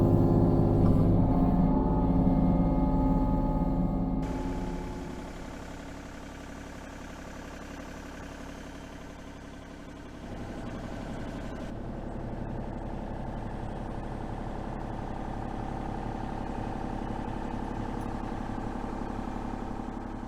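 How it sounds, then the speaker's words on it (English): A Rutt Manufacturing 36-inch brush cutter on a mini excavator runs steadily with a continuous mid-pitched engine drone, louder at first, dipping briefly, then holding an even hum throughout. "initial impression with the Rutt Manufacturing 36-inch mini excavator brush mower, brush cutter"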